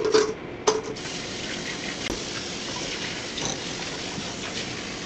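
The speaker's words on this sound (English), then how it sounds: "Put this in the sink, fill with water, so it's easier for cleaning later." Tap water runs steadily into a kitchen sink to fill a used cheesecake-batter bowl, a constant nearby hiss and splash after a couple of brief clanks of the bowl being set down, with no speech.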